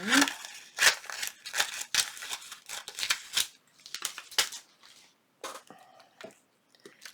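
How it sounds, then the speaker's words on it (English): Scissors snip through a sheet of acetate for a botanical junk journal, a quick series of crisp, close cuts with brief pauses between, ending in a few lighter rustles. "We now need to get our piece of acetate. I'm going to cut me a piece of mine."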